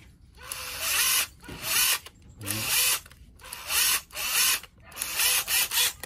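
A cordless battery drill whirs in several short, loud bursts separated by brief pauses as its direction is switched back and forth, with no talking.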